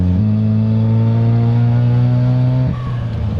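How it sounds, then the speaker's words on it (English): Twin-turbo Mazda RX-7 FC rotary engine holding a loud, steady buzzing drone close by, then the note drops and breaks off near the end as the revs fall away. "this is one of the coolest sounding turbo cars I've ever heard"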